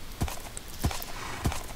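Horse hooves clop inside a small horse enclosure in a modded Minecraft server game, three evenly spaced, moderately loud thuds about 0.6 seconds apart over faint background noise.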